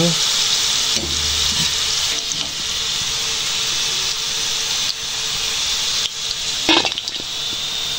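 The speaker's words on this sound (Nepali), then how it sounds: "लसुनलाई भुट्दैछु हैन" Garlic fries in hot oil for a Nepali timur chutney, a loud, continuous close-up sizzle with occasional scrapes and clinks of stirring.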